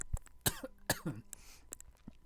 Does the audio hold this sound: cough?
yes